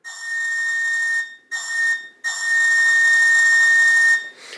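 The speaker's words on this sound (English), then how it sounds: "F2 is your whistle/horn." A steady, shrill whistle from a model train's sound system toots three times: a long blast, a short one, then a longer held tone, clear and close with no one speaking.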